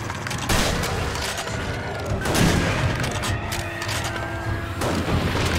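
Shotgun blasts in 7 Days to Die with the Darkness Falls mod, several heavy booming shots going off in a loud, dense burst of combat noise.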